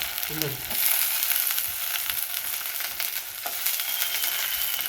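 Garlic and onion fry in oil with a steady, close crackling sizzle, broken by occasional light scraping and stirring knocks.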